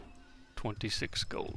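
A horse neighs briefly in the online game UO Outlands, a short whinny that a voice overlaps.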